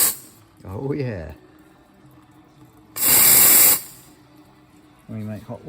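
An Astoria lever espresso machine's steam wand lets out a loud burst of steam hissing for under a second between short spoken remarks, then cuts off abruptly.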